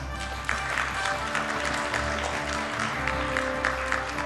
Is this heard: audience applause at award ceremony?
yes